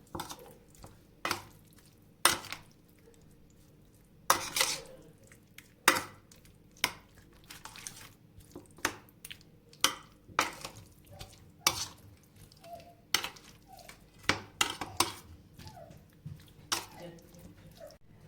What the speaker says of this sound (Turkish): Hemen şöyle bütün malzemeleri tavuklarla birlikte karıştırıyorum.